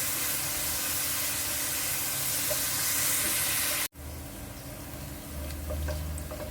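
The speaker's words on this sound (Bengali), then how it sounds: "1 কাপে কিছুটা বেশি পেঁয়াজ কুচি দিয়ে দিলাম। এগুলোকে নেড়ে গোল্ডেন ব্রাউন করে নিব।" Chopped onions sizzle and hiss steadily in a hot pan while being fried golden brown, a dense continuous crackle with a brief dropout partway through before the frying resumes.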